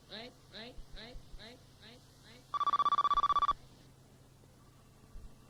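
A telephone rings on a 1997 radio call-in talk show, giving one burst of rapid electronic trills lasting about a second, right after several short rhythmic vocal syllables, then quiet room hiss.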